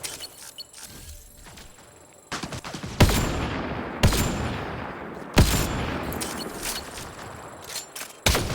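Sniper rifle gunfire in Mass Effect: Andromeda on Kadara: four loud, sharp shots spaced about a second or more apart, each with a long ringing decay, over quieter background action.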